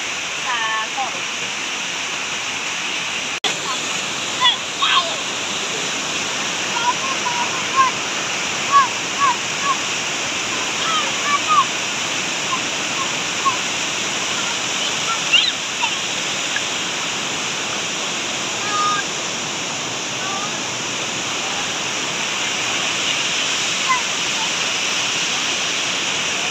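Hinguiwin Falls in Padre Burgos, Quezon pours with a steady, loud rushing roar that fills the whole stretch, while faint voices and a few brief knocks come through underneath.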